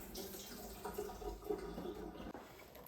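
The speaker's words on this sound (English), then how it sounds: "So I'll just drain the water out of the sultanas." Water draining off soaked sultanas in a kitchen while making Sicilian sfinci doughnuts, a soft steady trickle and splash lasting a few seconds at close range, quiet and without talk.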